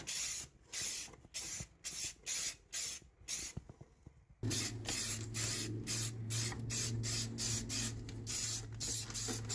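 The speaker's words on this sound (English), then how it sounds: "Because remember, spray paint is very toxic." Spray paint being applied to a 3D printed Aero Pegasus model in short, rhythmic hissing bursts, about a dozen close sprays with a fan humming steadily underneath from the midpoint onward.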